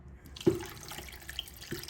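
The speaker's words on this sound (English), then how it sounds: "Just going to add a lot of water to make it cook together with these peppersoup spices." Tap water runs and splashes into a cooking pot for fish peppersoup made with pounded peppersoup spices, with a sharp splash onset and a steady flow close by.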